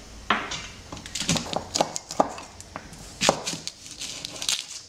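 Garlic cloves are crushed with the flat of a knife on a board, producing a series of sharp, irregular thumps and knocks at close range, spaced unevenly, with no talking.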